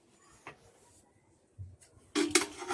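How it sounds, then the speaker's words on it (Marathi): Washed raw chicken is dropped into a pressure cooker: faint clinks and shuffles give way to a louder wet thud and clatter near the end. The sounds are close and quiet, with no speech. "धुतलेलं चिकन कुकरमध्ये टाकूया"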